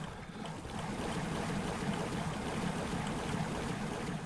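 Steady rushing, churning water from the colony-building game Timberborn, a dense continuous wash that swells slightly after the first moment and holds evenly throughout, with no voices over it.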